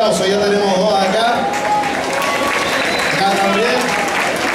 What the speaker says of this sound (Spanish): le vamos a brindar un fuerte aplauso